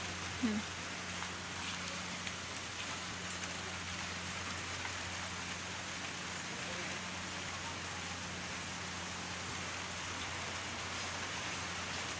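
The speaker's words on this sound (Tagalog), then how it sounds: "Ulan na ulan." Heavy rain falls steadily at a beach, a dense even hiss lasting throughout with a faint low hum underneath.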